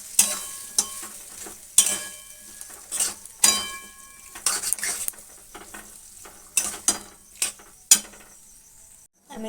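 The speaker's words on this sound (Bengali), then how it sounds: "তারপরে ভালো করে আমার আবার কষিয়ে নেব" Spices being sautéed in a pan, a soft frying hiss beneath irregular loud clanks and scrapes of a metal spatula, close by, with quieter gaps between bursts of stirring and no talking.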